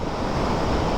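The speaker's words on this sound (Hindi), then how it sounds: "ये पीछे ग्लेशियर ने जो दिखाया था ना, ये उसी ग्लेशियर का पानी पिघल के आ रहा है।" Glacial meltwater stream in the Chupursan Valley rushing beneath a wooden bridge, a steady close roar of churning water with a broad wind-like hiss and no break in its rhythm.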